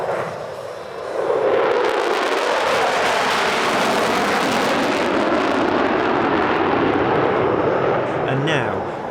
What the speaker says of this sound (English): Here, afterburner is engaged, and as you can see, no visible smoke.